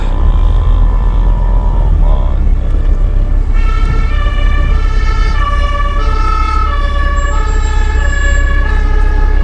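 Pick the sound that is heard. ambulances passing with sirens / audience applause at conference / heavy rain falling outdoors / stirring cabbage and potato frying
ambulances passing with sirens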